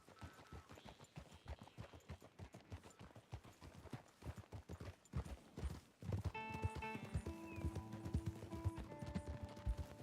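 A horse gallops in Red Dead Redemption 2, with rapid, steady hoofbeats up close; after about six seconds a musical score enters and plays over the hooves.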